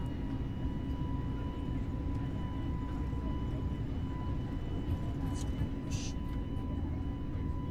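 Airliner engines in Microsoft Flight Simulator spool up for a takeoff roll, giving a steady, loud broadband roar with a constant high whine running throughout.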